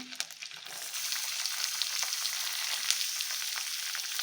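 Onion frying in a pan with grated ginger and garlic already browned, a steady close hiss of oil sizzling with faint crackles and brief stirring scrapes, no voices.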